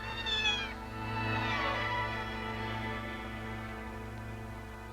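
A black cat in a 1946 film gives one long, wavering meow that rises and then trails downward, heard over a steady low hum in the soundtrack.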